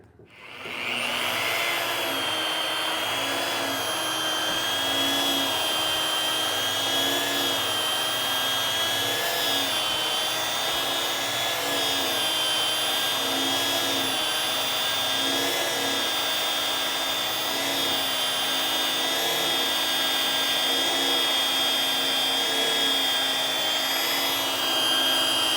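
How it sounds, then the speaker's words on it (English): A rotary polisher runs steadily on car paint, its motor holding a continuous whine with layered harmonics, close and loud from start to finish with no talk over it. "now I'm going to have to tilt the polisher this way so I can avoid this peak"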